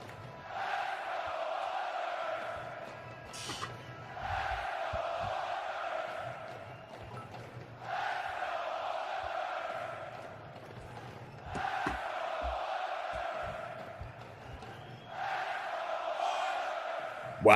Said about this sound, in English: Listen to those cheers.